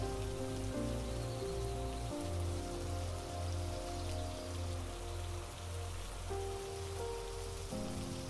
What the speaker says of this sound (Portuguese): até que começa a cair a chuva.